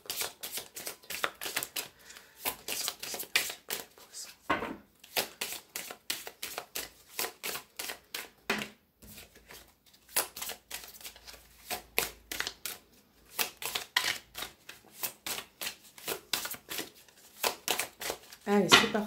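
Tarot cards shuffled by hand in rapid, crisp riffling bursts with short pauses between passes, close and clear, while someone speaks French over them.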